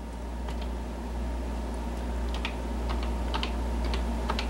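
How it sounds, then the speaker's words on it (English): Fast typing on a Color Computer keyboard, a steady run of small plastic key clicks over a constant low hum from the machine and tape recorder, with no voices. "type these commands in"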